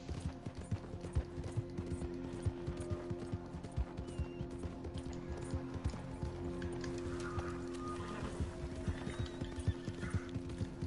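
A horse gallops in the video game Red Dead Online, quick rhythmic clip-clop hoofbeats running steadily and fairly faint under a low droning game background, with occasional mechanical clicks.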